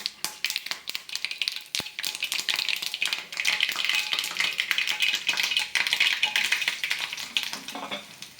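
Mustard seeds crackle and pop in hot oil with dried red chillies while a chutney tempering is made for dosa, giving dense continuous spattering that swells louder midway, with no voices.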